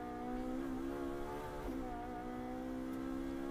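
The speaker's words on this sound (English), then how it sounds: "Pushing that Octane 126 Ferrari 458 for all it is worth" An Octane 126 Ferrari 458 race car at full throttle at Imola, heard from the helmet camera as a steady, loud, high engine drone with one brief pitch dip mid-clip and no talk.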